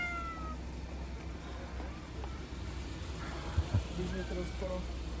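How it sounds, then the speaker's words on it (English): A cat meowing outdoors on a mid-January day in Krakow, Poland: faint, distant meows within steady street background, with two short bumps of nearby sound late on. "Now I hear a cat somewhere."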